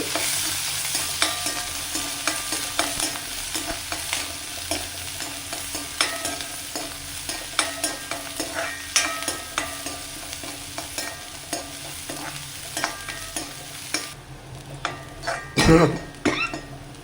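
Shallots, garlic and fiery bird's-eye green chillies frying in a pan for a carrot stir-fry, a constant sizzle punctuated by regular scraping stirs, with a short cough near the end.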